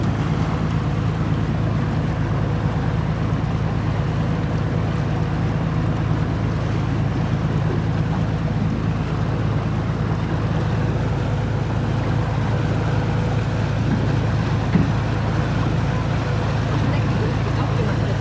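A harbour launch drifts on the water with a steady low engine drone and constant hum of water and wind throughout, sounding close and even.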